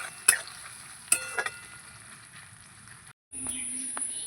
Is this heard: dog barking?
no